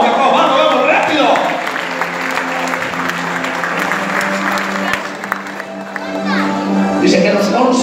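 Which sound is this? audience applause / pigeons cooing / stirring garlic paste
audience applause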